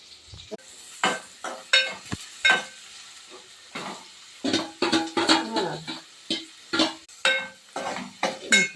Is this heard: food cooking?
yes